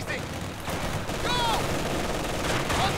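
Enemy gunfire in Company of Heroes 2, a dense battlefield clatter of rifle and machine-gun shots at mid distance, with whistling tones and voices shouting over it.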